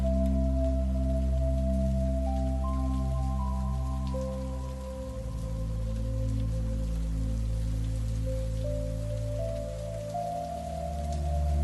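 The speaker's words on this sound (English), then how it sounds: "Outside, the rain continues to fall." Soft, steady rain patters in the background beneath sustained, gentle tones that shift slowly, creating a calm, continuous wash of sound.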